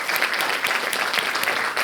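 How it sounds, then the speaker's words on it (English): Audience at a closing ceremony breaks into sustained applause, a dense steady patter of many hands clapping close and loud, with no speech over it. "let's give them a round of applause"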